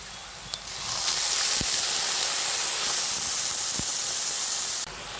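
Water poured into a pan of frying onions and green chilies gives a sudden loud, steady hiss and sizzle of steam lasting several seconds before it cuts off.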